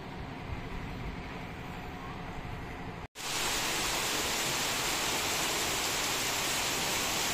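A dense, steady roar of heavy monsoon-season downpour that jumps sharply louder after a brief cut partway through, then holds constant and close.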